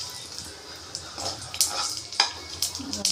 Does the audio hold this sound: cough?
no